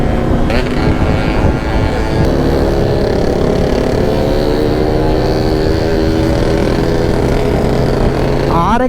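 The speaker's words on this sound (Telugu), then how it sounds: "RX 100 సౌండ్ అయితే మాత్రం మెంటల్ ఉంది అసలు" A Yamaha RX 100 two-stroke motorcycle on a race track in Hyderabad, its exhaust a loud, constant buzzing drone with rising and falling revs, heard up close alongside rushing wind.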